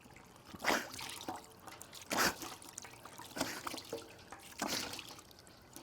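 Water splashes and trickles in four separate bursts as a person washes the nose during ritual ablution, with close, moderately loud scoops of water and quiet dripping between them.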